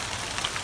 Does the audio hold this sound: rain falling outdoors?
yes